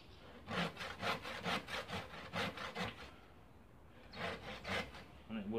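A hand saw cuts through a wooden log in steady back-and-forth strokes, about a dozen rasping passes, a brief pause, then several more, heard close and fairly quiet.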